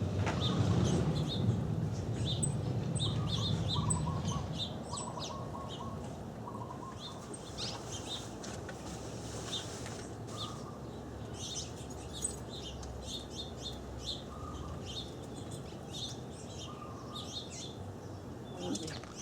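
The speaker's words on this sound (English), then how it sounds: "the birds are directly above us on the line" Birds chirp and tweet in short, repeated calls from a power line overhead outdoors in Maui, fairly faint against steady background noise, with a low rumble during the first few seconds.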